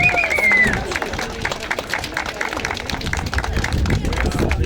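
Crowd claps for the runners at the finish of the Katyński historical memorial run, a steady outdoor patter of many hands with some chatter mixed in, holding through the whole stretch.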